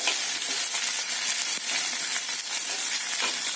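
Onion sautés in a hot pan, a steady, close hiss and crackle of sizzling with soft stirring scrapes throughout.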